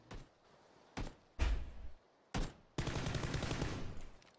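Gunfire in PUBG, a few separate sharp shots with short echoing tails, then a sustained burst of rapid fire near the end.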